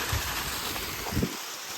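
Constant broad rushing water noise from a waterfall at the entrance of Raigad Fort, steady and loud with a couple of faint low thumps.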